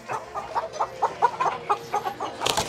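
Ready-to-lay pullet chickens cluck in a quick, regular series of short, close calls, alone without talking, ending with a burst of noise.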